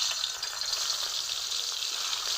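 Soybean chunks fry in hot mustard oil, a steady, loud, close sizzle that holds without a break, with no voices.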